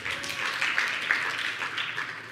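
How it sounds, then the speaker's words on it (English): Conference audience clapping for a graduating cohort at a women's leadership event, a steady wash of many hands applauding together at moderate distance, fairly soft and even throughout with no voices over it. "again a clap."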